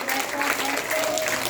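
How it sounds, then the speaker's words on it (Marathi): Children and parents in a nursery school audience clap steadily together, a dense, continuous wash of applause at close range, with faint voices mixed in. "जोरात टाळ्या वाजवायच्या।"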